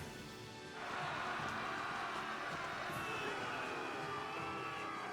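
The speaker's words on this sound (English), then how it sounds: "I hear people cheering." A crowd of soldiers roars in the Tales of Graces f video game, with a sudden swell of loud, washy cheering or battle noise that holds steady for several seconds, heard alone.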